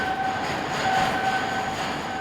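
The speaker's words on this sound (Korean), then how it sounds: "컴컴한 터널 속으로 케이블 열차를 타고 시내로 내려간다" A cable train rumbles steadily down a dark tunnel toward the deepest point of the Seikan undersea tunnel, with a continuous hollow roar and a faint high whine, heard close.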